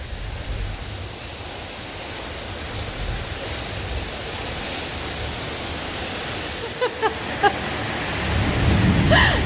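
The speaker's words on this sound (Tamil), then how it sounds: "எங்கள் ஊரில் செம்ம மழை" Heavy rain pours down in a dense, continuous hiss close by. A few brief knocks sound near the end, and the rush swells slightly louder in the last seconds.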